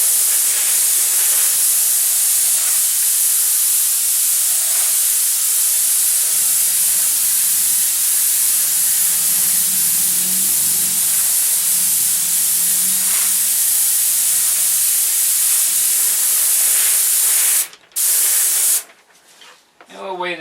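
An airbrush or spray can lays a light coat of paint on a P-47 model airplane, giving a steady, close, continuous hiss for about seventeen seconds before it cuts off in a few short bursts.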